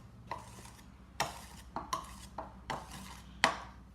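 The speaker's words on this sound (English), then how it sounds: "you are going to need your palette knife. So I'm just going to scrape this off a little bit" A palette knife scrapes frosting off the top of a Halloween-themed cupcake: six short, crisp scraping strokes against a dish at an uneven rhythm, close and quiet with no talking.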